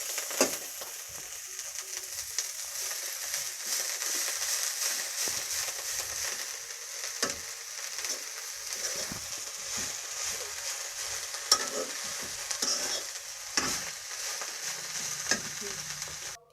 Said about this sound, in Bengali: এখন আমরা ধনিয়া পাতাগুলো হালকা আঁচে ভেজে নেব।